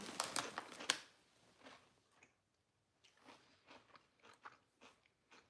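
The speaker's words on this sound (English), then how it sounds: "Crunch, crunch, crunch." Crunchy snack being bitten and chewed up close, a quick burst of loud crunches followed by quieter, spaced chewing crunches, with no talking.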